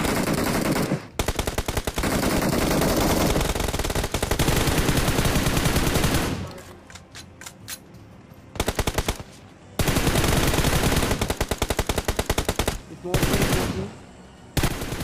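Bursts of rapid automatic gunfire in the BGMI battle royale video game, loud sustained volleys separated by short pauses and scattered single shots.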